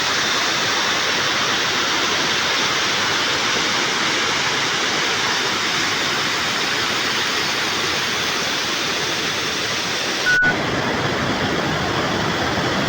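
Water pours from a dam in a loud, unbroken roar that fills the scene without pause, heard close and alone.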